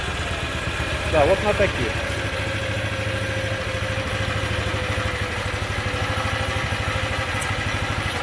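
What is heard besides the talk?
MB-6 walk-behind tractor with Z250 engine idling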